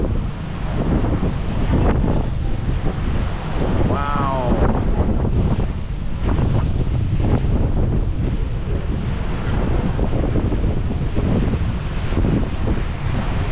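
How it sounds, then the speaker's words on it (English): Big sea waves and gusting wind roar loudly and continuously on a ferry crossing from Ibiza to Formentera, with heavy wind buffeting on the microphone and a voice briefly exclaiming over it. "We are almost in Formentera. Big waves."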